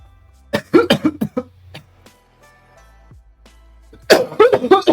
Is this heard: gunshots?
no